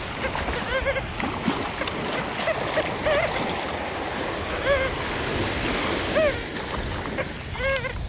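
Ocean waves crash and wash over a beach in a steady surf roar, with short high-pitched electronic beeps repeating over it throughout.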